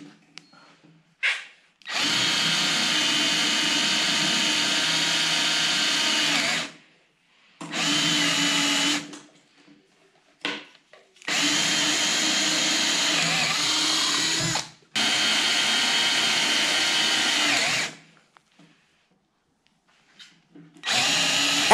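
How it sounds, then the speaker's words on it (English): A power drill bores holes through 42 by 42 millimetre pieces of wood, its loud, steady whine running in four long bursts with short silent pauses between. "drilled a few holes in them for the hockey straps to pass through"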